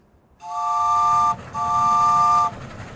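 An 1880s steam train whistle in Sonora, Mexico sounds two long, steady tonal blasts separated by a short gap, loud and fairly near.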